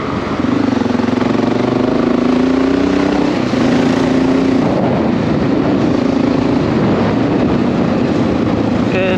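A Honda XR650L motorcycle engine runs steadily up close with valves tapping from excess slack, a continuous loud mechanical drone with a fast ticking rattle throughout.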